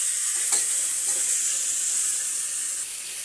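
Food is stirred and fried in a pan, giving a loud, continuous hiss of sizzling oil with faint scraping, close and alone with no voices.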